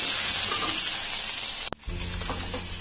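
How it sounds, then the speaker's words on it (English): Cumin and curry leaves splutter in a hot pan, a loud dense sizzle that cuts off abruptly, then resumes as a lower, crackling fry with scattered pops. "The cumin will splutter."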